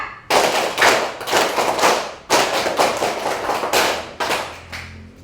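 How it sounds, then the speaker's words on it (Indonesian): Pupils in a classroom clap the scout rhythm, tepuk pramuka, together. Crisp, loud unison claps fall in several quick clusters with short pauses between them, and a brief lull comes midway. "Tepuk pramuka."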